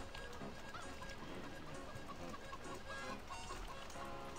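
Hens in the Farming Simulator game cluck and honk faintly in a steady, overlapping chatter, quiet and continuous without talk.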